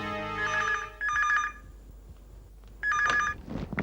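A telephone rings in a domestic TV drama scene, two bursts of ringing, a pause, then a third burst, clear and fairly close with no speech.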